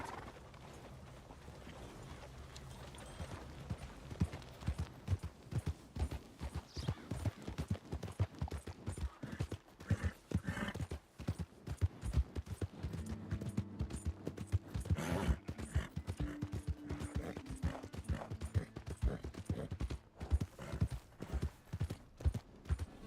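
Irregular horse hoof clip-clops at a walking pace in the video game Red Dead Redemption 2, fairly faint, mixed with soft background noises and a brief animal call.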